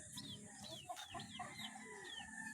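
A laying hen clucks softly and repeatedly near a chick feeder, short throaty calls mixed with other chickens in a quiet farmyard, fairly faint, without speech.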